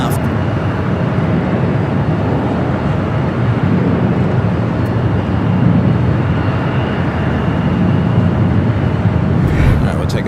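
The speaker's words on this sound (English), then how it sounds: "To Atlanta, taking off there on the north side at 24 left." An airliner taking off from runway 24 left at LAX, its engines producing a loud, sustained low roar in the distance with a person talking over it throughout.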